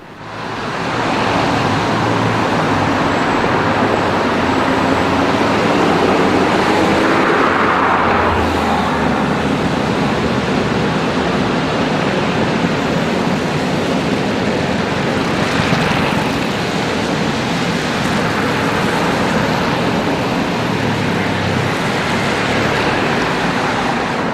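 London Routemaster bus RM1562 running along a city street, a loud, steady engine and traffic roar that holds throughout with little change.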